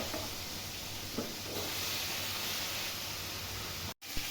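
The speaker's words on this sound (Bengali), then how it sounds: "এই যে দেখো মাছ ভাজা হচ্ছে" Fish frying in a pan, a continuous soft hiss and sizzle of oil with a couple of light knocks and a brief gap near the end.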